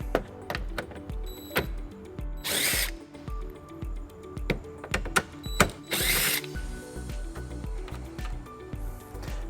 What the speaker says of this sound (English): we'll remove the two screws in the taillight using a 10mm socket